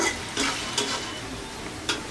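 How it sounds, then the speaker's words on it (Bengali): Onion frying in oil in a kadai, a continuous sizzle broken by three or four scraping strokes of a spatula stirring the pan, close and clear. "পেঁয়াজটাকে বেরেস্তার মতো করে ভেজে নেব।"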